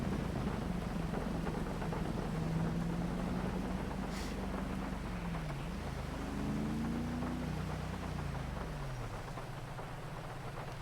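Steady rain hiss in GTA 5 around coastal Del Perro Pier, running throughout beneath a car engine's low drone that rises and falls in pitch as the vehicle drives, with no one talking.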